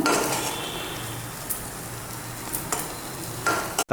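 Gongura leaves with turmeric sizzle and fry steadily in oil in a pan, with a few soft clinks of a utensil stirring against the metal near the end.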